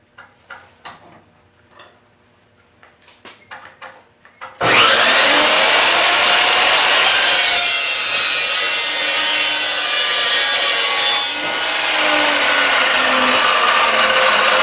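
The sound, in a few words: sawing off small metal pieces for plasma table legs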